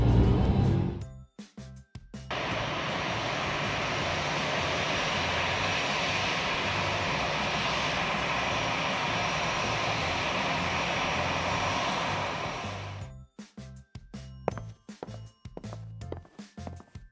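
Airliner engines during pushback, a loud steady roar that holds for about ten seconds, then cuts off abruptly into scattered clicks and quiet gaps.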